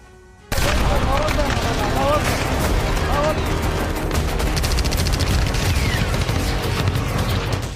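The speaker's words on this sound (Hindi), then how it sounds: "सूडान में गोलियां चल रही" Rapid bursts of gunfire crackle continuously, mixed with heavier booms, during fighting between the army and paramilitary forces in Sudan; loud and chaotic throughout, with voices faintly underneath.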